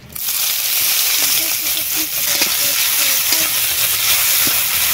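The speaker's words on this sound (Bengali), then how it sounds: "পেঁয়াজ লাল লাল করে ভাজা হয়ে গেছে" Chopped onions frying in oil left over from frying fish, with more oil added, in a home kitchen. A steady close sizzle runs throughout with faint stirring and scraping, and no one speaks.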